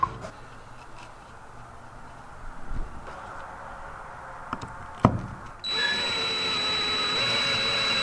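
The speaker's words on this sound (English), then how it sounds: "so that when I'm screwing it together," Power drill driving screws into pallet wood while assembling a rustic chick feeder, with a few taps and handling knocks, then a steady close motor whir for the last seconds.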